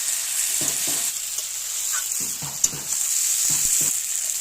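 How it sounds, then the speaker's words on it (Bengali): Prawns seasoned with salt and turmeric sizzle in hot oil as they are sautéed for a Bengali potol chingri dish, a constant hiss marked by rhythmic spatula scrapes in short bursts. "এবার চিংড়ি মাছগুলো দিয়ে সুন্দরভাবে কষিয়ে নেব।"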